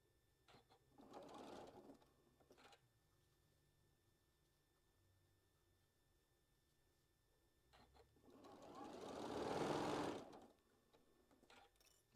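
A sewing machine stitches a quarter-inch seam down a quilt block, running in two bursts with a quiet gap between, the second longer and louder, and no talk.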